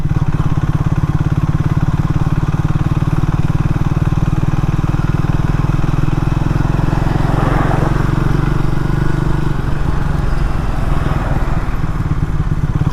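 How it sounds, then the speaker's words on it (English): A Triumph Speed 400 motorcycle engine pulls steadily in third gear uphill from low speed, a loud continuous close-up thrum with a faint rise in tone partway through and no talk over it. "so third gear, it is pulling from 20 kilometers per hour on the speedo."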